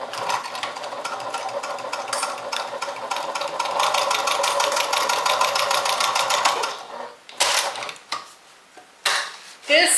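Sewing machine stitching a narrow 1/8-inch seam on a fabric makeup and toiletry bag: a loud, steady mechanical whir for about seven seconds, then stopping, followed by a few short bursts of stitching.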